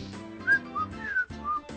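A person whistles a short, wavering tune in a few quick bursts, close and clear with nothing else behind it.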